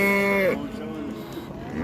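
Cattle and calves lowing at a busy livestock market, one loud drawn-out moo up close followed by a jumble of further bellows and crowd noise in the background.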